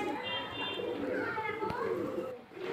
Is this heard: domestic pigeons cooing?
yes